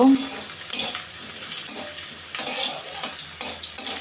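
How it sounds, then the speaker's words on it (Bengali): Chopped onions fry in a pan until reddish while cooking palak chicken, giving a loud, dense hiss and crackle close by, with faint rhythmic spikes from stirring throughout. "পেঁয়াজ কুচি, হালকা লালচে লালচে করে ভেজে নেব।"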